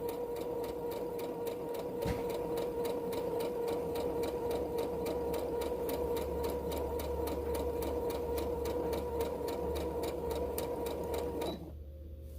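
A sewing machine stitches fabric during mask making, running in a steady rapid mechanical rhythm at close range for most of the passage, then stopping near the end.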